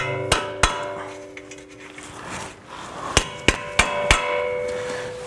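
A small screwdriver is tapped with a hammer to drive out a stuck strut bolt on a 2012 Subaru Forester. Two ringing metallic strikes come first, then four more after a pause, loud and close with no talking.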